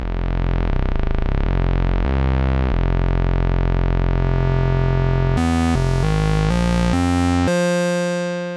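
Serge subharmonic generator producing a loud, distorted synth drone with buzzy sawtooth-like timbre, shifting to lower suboctave divisions of the main oscillator and stepping through several changing pitches toward the end.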